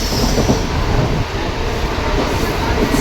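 A suburban train near Mulund rumbles steadily along the rails, a loud continuous roar with rhythmic clatter, heard from inside a carriage.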